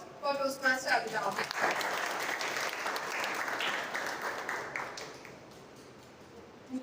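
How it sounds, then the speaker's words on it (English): An audience at a Toastmasters club meeting breaks into applause after a voice finishes speaking, clapping steadily for several seconds before fading out. "a huge round of applause for Toastmaster Abhitab"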